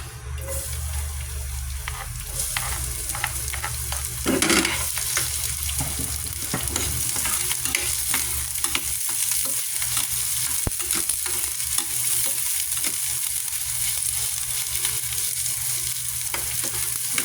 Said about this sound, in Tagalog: sautay natin ang ating bawang at sibuyas